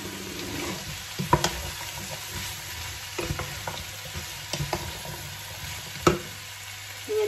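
Green beans being stirred and fried in a pan for a vegetarian menudo: a soft, continuous sizzle with sharp scraping clacks of a utensil against the pan at irregular intervals.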